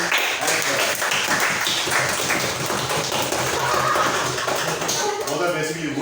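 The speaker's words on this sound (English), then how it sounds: "The Parliament wants to hear a very good round of applause for Chief Minister Darshan" Dense clapping from a large youth parliament audience fills the space continuously, steady and fairly loud, with voices mixed into the noise.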